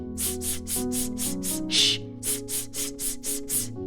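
A rhythmic series of short breathy "shh" hisses from a male vocal warmup exercise, about a dozen evenly spaced bursts, over a sustained background tone.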